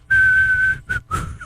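A person whistles nearby in a podcast studio: one long steady note held for most of a second, then two short clipped notes, loud and clear with no talking.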